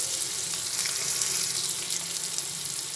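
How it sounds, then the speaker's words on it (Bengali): Chopped onion fries in oil in a pan, with ginger about to go in, while cooking potol alur dopeyaja. It gives a steady, close sizzle and crackle that stays even throughout, without any talk. "পেঁয়াজটা ভেজে নিচ্ছি।"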